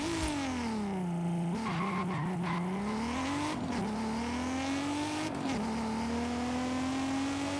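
A car in the racing game Forza Horizon 5 launches from a standstill, its engine note climbing through a gear change and revving hard with faint tire squeal. The engine is loud and continuous throughout, with no talking.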